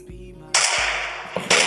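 Gunfire in the mobile battle royale game Free Fire: a few sharp, loud shots bursting out in quick succession over a low game hum, with a brief pause between bursts.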